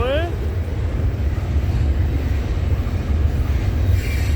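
CN freight train passing trackside at night, with a steady loud rumble of railcars rolling by, a brief horn-like tone at the start, and a voice talking over it.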